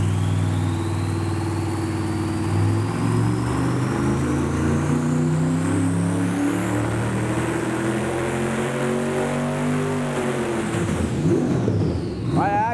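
A V8 twin-turbo car engine on a dyno, holding a steady loud drone with rising harmonics before the revs drop sharply near the end, with a voice briefly over it.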